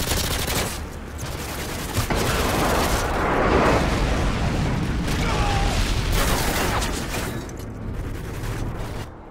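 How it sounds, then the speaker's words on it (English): Dense, continuous gunfire and heavy explosive booms from an airstrike in the video game Black Ops 2, loud and sustained throughout with overlapping blasts and clattering mechanical sounds. "Friendly airstrike on the way."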